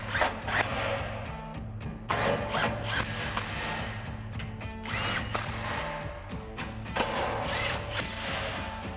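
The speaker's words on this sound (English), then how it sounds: "now we can take an 18mm socket to tighten down our 4 bolts" An 18mm socket on a power tool tightens exhaust bolts on a Jeep Gladiator JT RedRock single exhaust system, giving several short whirring, rattling bursts close by, with no talking.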